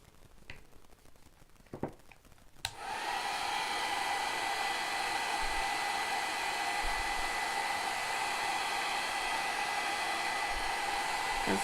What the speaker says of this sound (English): So let me get my blow dryer again